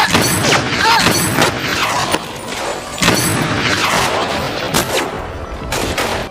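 Film gunfire: a sniper team's covering fire with smoke grenades, heard as dense, loud overlapping bursts of shots and crashes throughout, with a voice faintly underneath.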